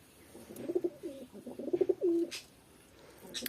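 Soft, low pigeon coos come in short rolling bursts, close by, over a quiet background with no talking.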